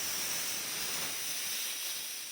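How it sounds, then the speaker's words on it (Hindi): A pressure cooker on a home kitchen stove hisses steadily as steam is released by hand, a broad, close, constant rush of air with a faint high whistle running through it. "कुकर में सीटियाँ ना काफ़ी देर से आने की कोशिश कर रही, लेकिन आई नहीं अभी तक। अब मैं ही ला देती हूँ।"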